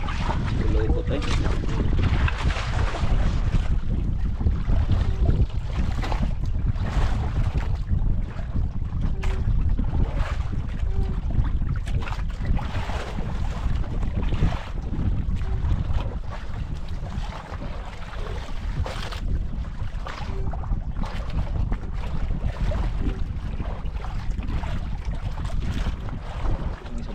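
A small fishing boat coming back to shore in the Philippines, its engine and hull noise blending with strong wind buffeting the microphone and sea ambience, steady and fairly loud throughout.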